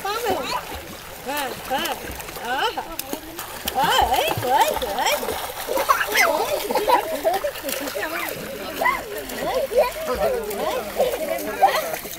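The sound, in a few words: splashing water while bathing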